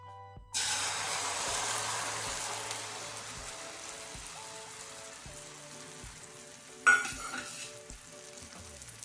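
Raw banana pieces sizzle steadily in a pan, the frying noise starting abruptly and holding a continuous crackle with a louder burst of spattering near the end.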